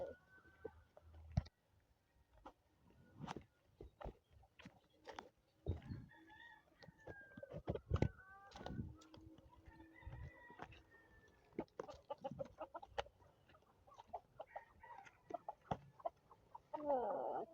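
Chicken sounds from the video game Realistic Minecraft: scattered hen clucks and a rooster crow, sparse and close against a quiet background.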